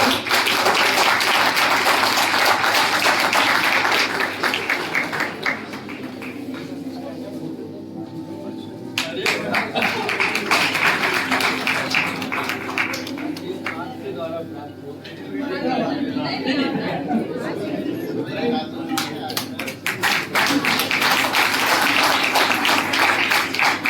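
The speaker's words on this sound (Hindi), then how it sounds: "जोरदार तालियां" Loud audience applause at a university Ram temple celebration stage event, bursts of clapping that swell, dip under an announcer's talk in the middle, then return strongly.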